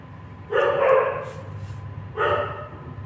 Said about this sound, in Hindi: जरा कुत्तों की आवाज़ों को थोड़ा इग्नोर करना